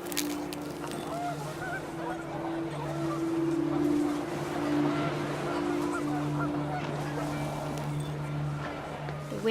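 Panicked geese honking in the video game What Remains of Edith Finch, a continuous busy flock chorus over steady wind and low hum, fairly close and moderately loud throughout.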